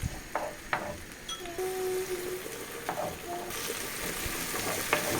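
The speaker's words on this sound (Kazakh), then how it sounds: "жаңағы тураған помидорымызды салып қуырамыз." Soft sizzling of chopped tomatoes frying in oil for a meatball gravy, with a few spoon scrapes and clinks and a brief tonal squeak, close and fairly quiet.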